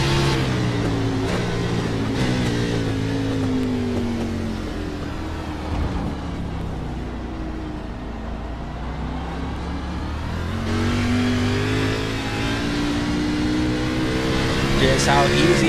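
A race car engine drones and revs steadily in iRacing at Portland International Raceway, with harmonic engine tones rising and falling throughout and a commentator talking over it.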